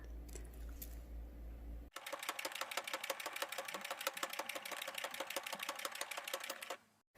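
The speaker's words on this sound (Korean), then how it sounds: "1cm 간격으로 박음질 하겠습니다." Sewing machine topstitching a quilted sun cap brim lined with batting and bag interfacing, a steady fast rattling run of needle strokes that starts abruptly after a quiet moment and stops near the end.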